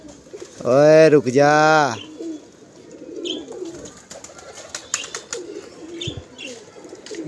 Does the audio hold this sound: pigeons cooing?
yes